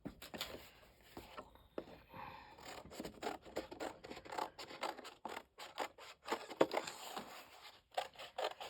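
Scissors snip through a cardboard circle in a string of quick, crisp cuts with brief pauses, close and fairly quiet, alongside some faint rubbing and handling noise.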